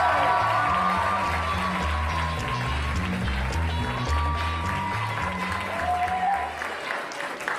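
A stand-up comedy crowd claps and cheers loudly and continuously as a comedian is introduced, with music underneath and a voice briefly audible over the applause.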